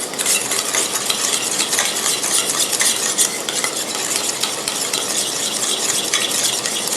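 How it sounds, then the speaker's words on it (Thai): Soy sauce mixture being stirred to dissolve sugar for steamed pomfret, a steady close scraping and swishing of utensil against bowl running without pause. "คุณผู้ชมจะต้องละลายน้ำตาลนะคะ คน จนน้ำตาลละลายนะคะ"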